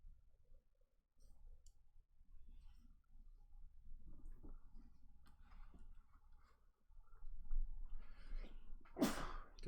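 A single sharp sneeze bursts out near the end, loud and close, during a live board game session, amid soft table clicks and quiet room murmur.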